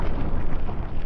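Fragmentation grenade explosion in Fallout 3, heard as a loud, broad roaring blast rumble that fills the short span without a clear start or end.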